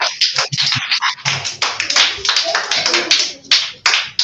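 Rapid bursts of hand claps from students in a virtual space-themed class come in quick clusters, close and crisp, with voices talking in between.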